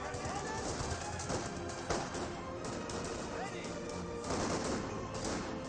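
MG42 machine gun fire in the World War II strategy video game Company of Heroes 2, quiet bursts of rapid shots mixed into dense battle noise, with a voice commentating over the action.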